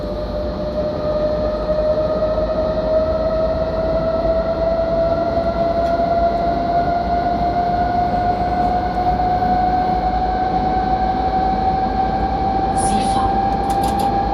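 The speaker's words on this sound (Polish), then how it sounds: "Także lokomotywa wielosystemowa, multisystemowa." A BR 189 multi-system electric locomotive runs at steady speed in Train Simulator Classic, a loud continuous drone of rail noise under a slowly rising motor whine, with a faint brief chime near the end.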